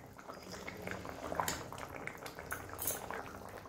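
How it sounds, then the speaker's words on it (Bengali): Fried hilsa goes into a pan where eggplant and potato are cooking, bringing a soft, steady bubbling simmer with a few light utensil clinks and small splashes, close and moderately quiet, with no talking. "এবারে আমি মাছ ভাজাটা দিয়ে দেব।"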